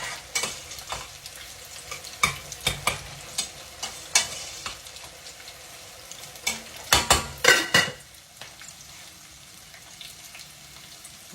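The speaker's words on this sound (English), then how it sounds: "Let me give it a quick stir." Hush puppies frying in hot oil are stirred with a utensil, giving a quiet steady sizzle broken by a series of sharp scraping and clinking strokes, with a denser flurry of stirring near the middle.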